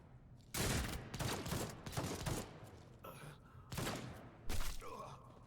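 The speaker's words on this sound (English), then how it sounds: "Oh, and he's shooting." Gunfire in the video game Warhammer 40K Rogue Trader: several heavy bursts of shots in quick succession, punchy and close, with short gaps between volleys and faint sounds trailing after.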